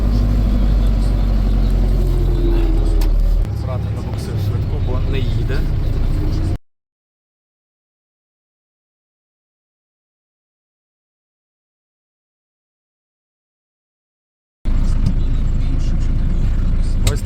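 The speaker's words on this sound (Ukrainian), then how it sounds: "Швидка. Бачите, як їде." An ambulance drives along a rough, roadless track while evacuating a person with limited mobility. A loud, close engine rumble runs under voices talking, cuts to silence for several seconds, then returns.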